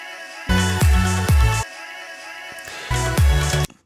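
A sustained sung vocal note with echoing delay repeats, playing in two phrases separated by a short gap, with no talking.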